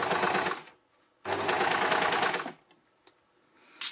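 An overlocker sewing machine stitches a shoulder seam in two loud, steady runs of rapid mechanical whirring, each lasting about a second, separated by a quiet pause and followed by a few small clicks.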